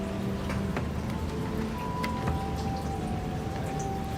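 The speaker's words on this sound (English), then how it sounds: "I'm kind of waiting for this rain to calm down so I can like walk out." Rain falls steadily as a dense, continuous hiss at Universal Studios Hollywood, with scattered louder drips and taps, close and fairly loud, with no talking.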